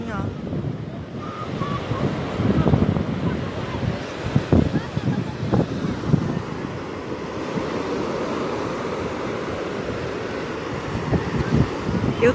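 Surf and wind at Boa Viagem beach at dusk, a steady wash of breaking waves with gusty wind noise buffeting the microphone throughout, a few louder surges rising above the constant roar.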